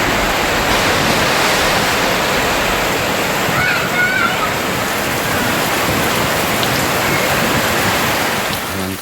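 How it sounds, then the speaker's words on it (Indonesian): Heavy rain driven by wind makes a loud, dense, continuous hiss and roar that stays steady throughout, with brief faint bird-like chirps partway through. "Oh, hujan angin."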